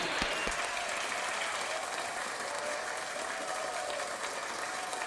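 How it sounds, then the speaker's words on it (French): Congregation applauding steadily at a French-language midnight prayer service, a dense, continuous wash of clapping held at an even level from start to finish with no voices standing out. "Acclamons pour le Seigneur Jésus-Christ de Nazareth."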